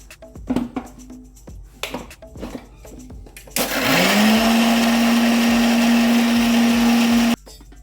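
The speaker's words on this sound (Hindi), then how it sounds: "अब इसको हम ग्राइंड करके इसका पेस्ट बना लेते हैं।" A few soft kitchen clatters, then a mixer grinder starts up grinding spice paste with a little water, whirring loudly and steadily for several seconds before cutting off abruptly.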